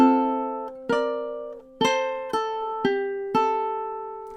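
A plucked ukulele phrase of several bright notes, with one smooth slide and a quick pull-off between attacks, ringing clearly with no voices.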